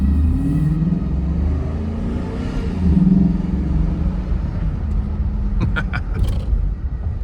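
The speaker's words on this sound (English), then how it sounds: "I can hear the intake over everything, especially in the mid shift." Steady engine drone and intake roar from a 2014 Ford Expedition with a Coyote V8 swap, heard from inside while driving, a continuous rumble that swells slightly midway, with a few faint clicks near the end.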